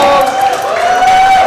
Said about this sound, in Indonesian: Tepuk tangan dulu dong buat babak pertama